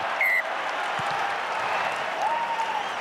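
A rugby stadium crowd on the Gold Coast at a South Africa versus Australia match sends up a broad, distant roar of cheering and clapping that holds steady throughout.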